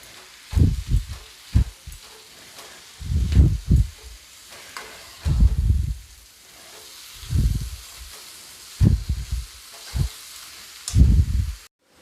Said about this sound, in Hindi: कैबेज डालने के बाद मैं कैबेज को भी लगभग आधा मिनट से 1 मिनट तक भून लूँगी